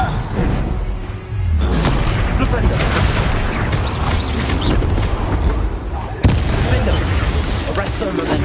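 Spell blasts and explosions in Hogwarts Legacy, with heavy booming bursts and crackling magical effects layered over game music, including a sharp impact partway through and a loud, dense mix throughout.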